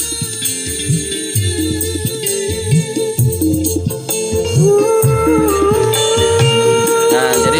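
A small PAM8403 5 V DC stereo power amplifier board with tone control plays music with its bass knob turned fully up, giving a loud, continuous mix with heavy pulsing low-end beats and no talk over it.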